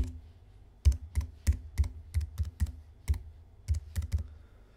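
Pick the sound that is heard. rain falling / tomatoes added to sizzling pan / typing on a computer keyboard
typing on a computer keyboard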